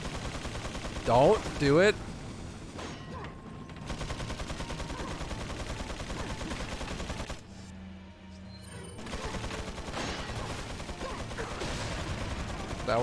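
Sustained Gatling gun fire in Resident Evil 4, a dense continuous rattle that runs through most of the stretch, drops out briefly, then resumes. A few louder bursts stand out early on, and a voice speaks over it.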